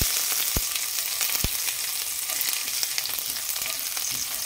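Ginger fries in oil in a pan at an outdoor catch-and-cook, a dense, even sizzle throughout with two brief low knocks early on, close and with no speech.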